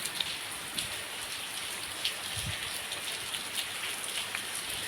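Soft, steady rain patters in the background outside a temple, with scattered faint drops ticking through a quiet hiss.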